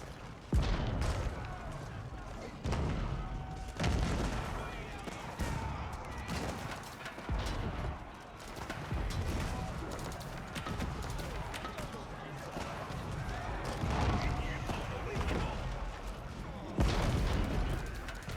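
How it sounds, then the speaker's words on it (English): Bombards and siege weapons firing in a medieval strategy video game battle, repeated booming shots and impacts at irregular intervals amid busy clatter, with a commentator talking over the action. "The bombards are killing the royal cannon, and then the mangonel will be the next victim."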